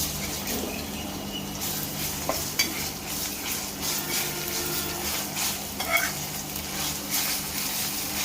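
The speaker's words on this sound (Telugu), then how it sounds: "ఇలా అంతా వేయించుకోవాలి పచ్చి వాసన పోయేంత వరకు" Ginger garlic paste frying in a pan with onions and green chillies for a village-style country chicken curry gives a steady, close sizzle, broken by occasional light clinks of stirring.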